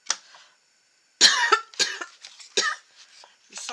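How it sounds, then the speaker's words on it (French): Several separate coughs from one nearby person with a pollen allergy, spaced across a few seconds at moderate loudness, each a short harsh burst, in a quiet indoor setting during a botanical drawing tutorial. "Je sens que je vais me mettre à tousser."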